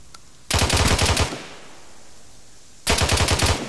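Automatic gunfire in ARMA 3 comes in two loud, rapid bursts of close shots, separated by a quiet gap with a faint background hum.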